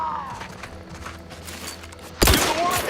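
Gunfire in The Outer Worlds 2, a sudden loud burst of shots near the end after a stretch of quieter game ambience.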